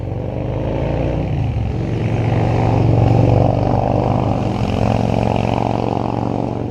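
Continuous low rumble of road traffic passing behind a property beside Lot Cuba Road, a vehicle swelling louder mid-way then easing, with no talk over it.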